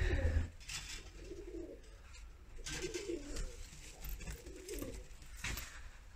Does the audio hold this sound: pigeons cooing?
yes